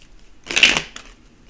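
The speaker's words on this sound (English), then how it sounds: "Spirit says shuffle it and cut it." A deck of cards being shuffled, one brief papery riffle burst close by, followed by a faint flutter and quiet surroundings.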